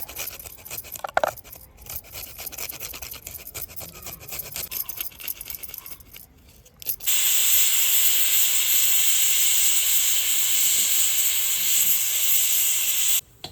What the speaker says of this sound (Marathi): आपल्या कुकरच्या तीन शिट्ट्या झालेल्या आहेत